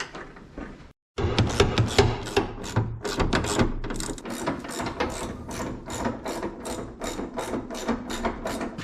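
Hand tools fastening bolts on an old Chevy OBS truck while parts are fitted, a quick sequence of sharp metallic ratcheting clicks and knocks, close and fairly steady, with no talk.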